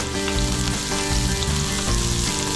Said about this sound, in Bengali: তেলটা গরম হয়ে আসলে দিয়ে দিব পেঁয়াজ ও কাঁচামরিচ